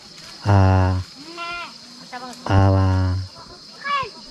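Two loud, drawn-out goat bleats about two seconds apart before slaughter, with quieter bleats and animal noises in between, close by, in a rural Philippine setting.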